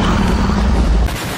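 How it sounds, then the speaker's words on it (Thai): Loud, dense explosion blasts in the Minecraft video game, a continuous rumbling boom with heavy low end that cuts off sharply near the end. "โอ้ระเบิดหมดเลย"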